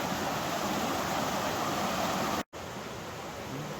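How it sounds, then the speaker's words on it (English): Mountain creek water rushing steadily beside a hiking trail on Mt Yale, a dense broadband roar that stays loud and constant, broken only by a brief cut partway through, with no voices. "swooshing sounds of the water the whole way so far, so I decided to step off the trail here just a couple feet and get a shot of it"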